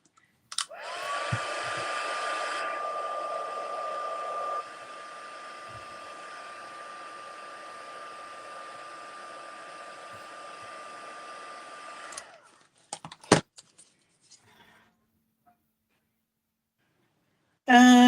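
A heat dryer drying a leaf runs steadily for about eleven seconds with a loud, even whir that drops slightly in level partway through, then shuts off, followed by a few clicks and knocks.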